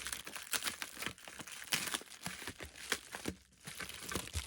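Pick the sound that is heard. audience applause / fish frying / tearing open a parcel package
tearing open a parcel package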